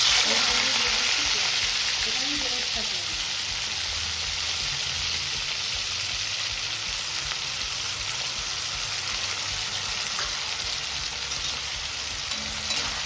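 Onions fry in hot oil with a dense, steady sizzle and crackle that holds evenly throughout, with faint stirring and a few soft background voices beneath it.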